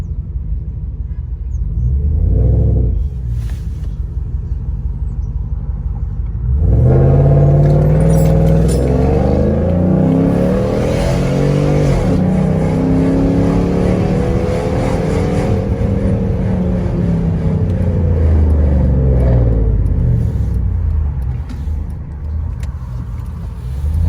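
Jeep Commander fitted with a new intake manifold launches hard from a stop and accelerates, engine roaring loudly and rising in pitch with tire noise, sustained for most of the clip after a short idle.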